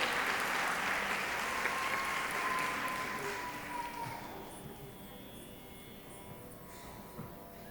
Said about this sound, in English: round of applause for our very own Apras alumni Amushri